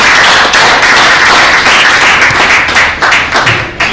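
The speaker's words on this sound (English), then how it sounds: "Ladies and gentlemen, a round of applause." An audience at a business breakfast meeting gives a loud, close round of applause, dense steady clapping that begins to break up and thin toward the end.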